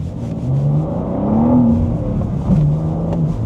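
A 400-horsepower car accelerates in first gear in Sport Plus mode inside a workshop, its engine note rising and falling steadily as it revs, loud and close with no talking.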